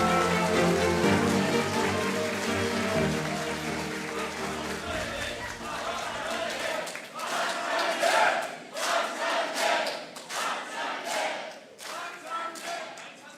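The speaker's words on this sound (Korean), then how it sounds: "큰 박수 부탁드리겠습니다" A crowd at a Democratic Party of Korea conference in Busan cheers at first, then breaks into loud, crackling applause that swells and continues with scattered clapping to the end.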